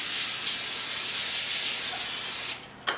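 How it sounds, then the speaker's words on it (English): Olive oil cooking spray hisses in a steady, close burst over turkey meatballs on a baking sheet, then fades and ends with a brief final puff. "I'm just going to spray that with olive oil spray so they don't stick."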